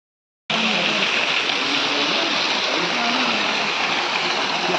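Water of a stream at Dharkundi ashram in Satna rushes steadily and loudly, a dense continuous wash of flow that fills the whole stretch after a brief silent start.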